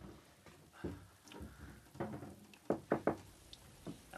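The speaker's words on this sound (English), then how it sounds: "And now it's raining again." Rain falling on a house, heard as irregular knocking drops striking a surface, some sharper and louder taps clustered near the end, close by with no talk.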